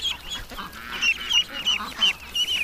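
Young ducks at a lake give repeated short, bright quacks and peeps in an irregular run, fairly close and moderately loud, with no talking.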